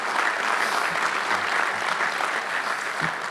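A crowd claps steadily and loudly for a few seconds, dense continuous applause with no voices.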